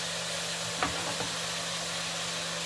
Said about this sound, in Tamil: தக்காளி வெங்காயம் எல்லாத்தையும் போட்டு நல்லா வதங்கி வந்தோடனே